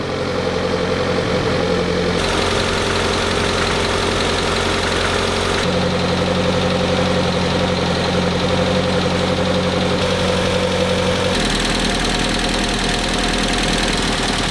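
Hillman Hunter GLS engine with twin Weber DCOE carburetors idles as it warms up, a loud, steady close-up rumble with a constant hum and slight shifts in pitch as the revs rise and fall.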